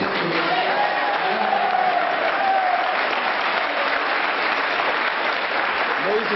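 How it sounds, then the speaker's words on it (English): Audience applause at a Brockton NAACP mayoral debate, steady dense clapping from a crowd filling the room at even loudness, with a faint voice briefly audible early on. "I'm respectfully going to ask you to hold your applause"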